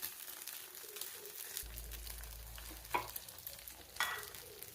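Batter for kuzhi paniyaram sizzling in a pan, a soft steady frying hiss with a low hum and a couple of brief scraping clicks, no talk.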